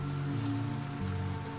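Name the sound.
rain falling, sound effect in a horror story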